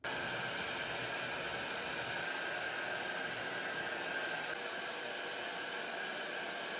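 A hair dryer blows steadily while drying freshly cut layered hair, giving a constant airy whoosh with a faint tonal whine, fairly quiet and unbroken.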